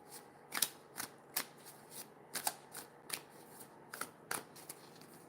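Higher self oracle cards being shuffled by hand, a quiet rhythmic run of soft riffling flutters at roughly half-second intervals, close and intimate with no talking.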